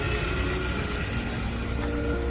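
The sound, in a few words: Wuling Rongguang van engine running after starting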